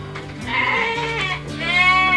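Sheep bleat from close by in a livestock pen, a couple of loud, wavering calls following one another.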